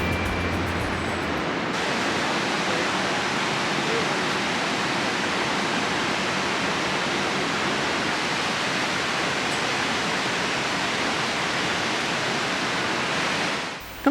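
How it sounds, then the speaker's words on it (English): Devil's Bridge waterfall cascading into a gorge, a steady, loud, broadband roar of rushing water that continues unbroken throughout. "we start to get a glimpse of the waterfall and realise how big it actually is as it cascades into the gorge"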